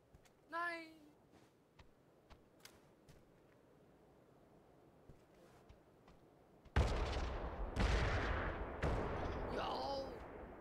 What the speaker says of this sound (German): Was sind das immer für Explosionen, die man da hört?